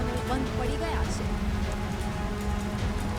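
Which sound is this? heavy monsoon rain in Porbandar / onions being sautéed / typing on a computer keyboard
heavy monsoon rain in Porbandar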